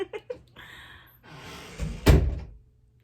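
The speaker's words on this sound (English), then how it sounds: "Close the door." A door swings shut with a solid thunk near the end, preceded by scuffing movement and faint rustling in a quiet indoor room.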